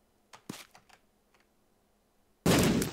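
A bomb blast in The Binding of Isaac video game lands as a single loud, sudden burst after a few soft clicks and taps, then holds as a dense roar to the end.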